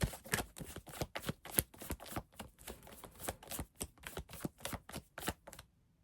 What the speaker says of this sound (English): No, I'm shuffling.